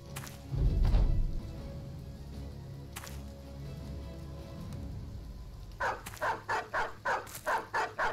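Dogs barking in the game Battle Brothers during a fight against legionaries, a string of rapid, evenly spaced barks in the last couple of seconds after earlier thuds and a low rumble.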